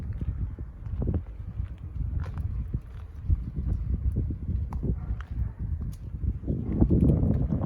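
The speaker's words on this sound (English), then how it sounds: "A windy day here in Humboldt County." Gusty wind outdoors in Humboldt County buffets the microphone with a loud, continuous low rumble that surges and dips, swelling again toward the end.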